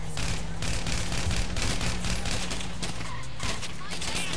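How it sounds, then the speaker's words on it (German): Rapid gunfire aimed at car tyres in GTA V, a dense continuous fusillade of shots with engine rumble underneath and voices talking over it. "Ja, ich schieße. Versuche auf die Reifen zu ziehen"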